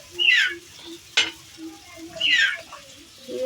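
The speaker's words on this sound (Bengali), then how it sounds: "তেলে দিয়ে বড়া ভাজা কিছু পেঁয়াজি" Onion fritters (peyaji) sizzle in hot oil while being stirred, with bursts of crackling spatter, a sharp scrape near the middle, and a low steady hum underneath.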